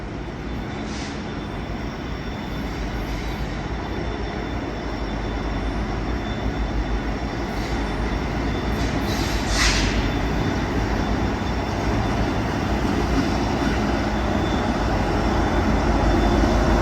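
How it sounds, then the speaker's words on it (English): A westbound Norfolk Southern intermodal freight train rolls past near the former Pennsylvania Railroad station in Harrisburg, Pennsylvania, a steady loud rumble that builds gradually over the whole stretch with no voices. "Westbound Norfolk Southern intermodal, probably headed for Chicago."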